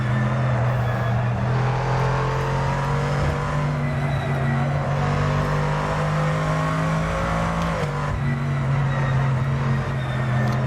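A GT2 race car in a racing video game drones steadily at high revs, its engine note holding loud and continuous with slight pitch shifts and a brief dip near the end, no voices.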